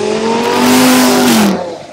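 An Audi R8 V10 engine revs loud and close, its pitch climbing and then dropping away as the rev falls off, with no voices over it.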